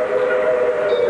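A game show's train sound effect, announcing the next prize, plays as a loud, sustained whistle-like tone lasting about a second, with no speech.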